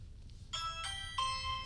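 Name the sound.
Ring video doorbell chime sound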